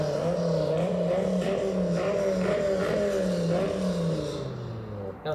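A Dodge Viper engine revs in a series of rising and falling pulls, fairly loud and close, fading slightly toward the end.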